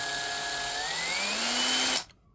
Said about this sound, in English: Don't drill into your finger.